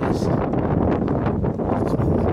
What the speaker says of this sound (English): The wind blowing, allergy season.